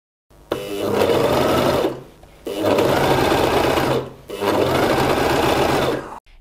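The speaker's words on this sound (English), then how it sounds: "and then start sewing." Gritzner 788 overlock sewing machine running fast through fabric in three loud close bursts separated by brief pauses, each burst a dense mechanical whir.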